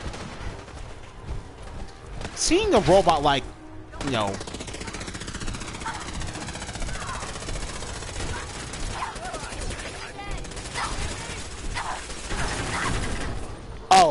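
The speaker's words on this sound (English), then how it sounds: "Nope, I still hear gunfire" Gunfire in the Fallout 4 video game during a modded castle defense, rapid bursts and rattling shots running under someone talking throughout.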